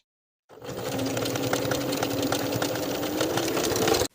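A sewing machine runs steadily for about three and a half seconds, top stitching the top section of a jeans back pocket in place from one side to the other, with a continuous even mechanical hum and rapid stitch rattle.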